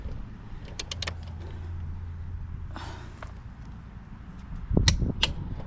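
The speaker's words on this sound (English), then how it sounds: "I'm going to torque these bolts out" A torque wrench set to 77 foot-pounds tightens the rear brake bolts on a 2016 Can-Am Spyder F3, with a few sharp metallic clicks and a brief ratcheting rasp close by, then a louder clunk near the end.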